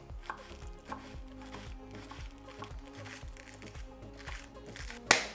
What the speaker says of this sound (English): You want to slice them thin.